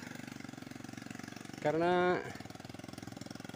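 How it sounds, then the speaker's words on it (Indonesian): Sukhoi mountain motorbike engine running steadily with a fast, even rhythmic putter throughout, briefly covered by a spoken word from a rider in the middle. "Perjalanan menuju gunung menggunakan motor Sukhoi."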